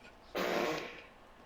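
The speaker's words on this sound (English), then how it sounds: "I farted." A single loud, raspy fart bursts out and trails off over about half a second, standing alone against quiet room noise.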